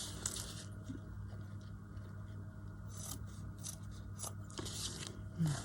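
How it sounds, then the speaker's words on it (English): Small scissors snip stitched threads on fabric in short, quiet cuts at irregular intervals, close by over a low steady background hum. "Just give them a bit of a trim."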